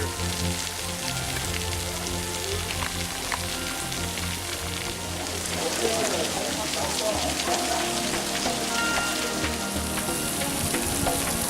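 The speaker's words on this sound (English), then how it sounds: "A little bit of raining here." Rain patters steadily at the Emerald Pools, where water seeps and pours through rock, a dense, even hiss of drops hitting water and stone that continues close and constant throughout.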